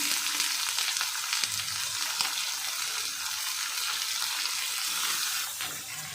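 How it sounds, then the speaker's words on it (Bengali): Potatoes and beans fry in a pan with a loud, steady hissing sizzle, close up, easing off slightly at the very end. "আলু আর বিনসটা একটু ভেজে নিয়ে"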